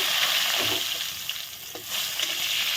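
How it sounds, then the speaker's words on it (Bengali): Whole cumin seeds and two or three bay leaves crackle in hot oil left from frying paneer, giving a steady close, bright hiss with faint pops and no talking. "ফোড়নটা ভাজা হয়ে গেছে"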